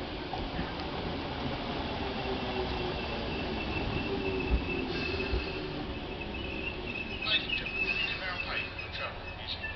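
A train hauled by a class 90 locomotive with a driving van trailer passes, making a steady, moderately distant rumble with faint high squeals, while birds and insects sound in the background.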